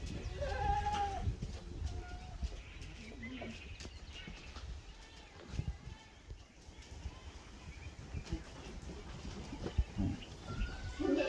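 A young goat with milk teeth gives a few faint, short bleats amid a steady murmur of farmyard background noise.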